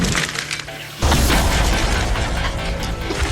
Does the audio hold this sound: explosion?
yes